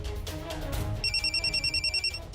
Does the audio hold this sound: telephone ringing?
yes